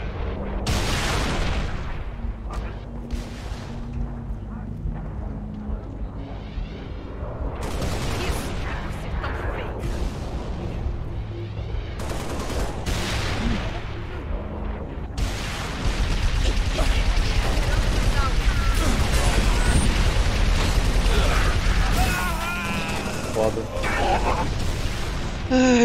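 Enemies firing at the player in the Halo Reach video game, with repeated booms and shots that grow louder and denser in the second half, under a player talking.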